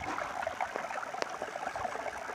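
Water streams and trickles steadily through a gold sluice running at low pressure in a small Georgia prospecting setup, a continuous gentle rushing and splashing close by with no talk.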